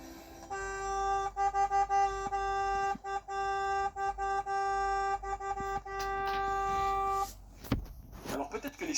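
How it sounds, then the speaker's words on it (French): Car horns blare in a video game as a long sustained honk, briefly broken by short gaps, then cut off by a burst of noisier sounds near the end. "les conducteurs, ils ont toujours ce réflexe de klaxonner"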